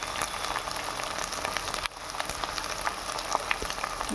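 Ginger and garlic paste fries in a pan with beef mince for a chickpea keema. It gives a steady, close, fizzing sizzle with small crackles and no talking.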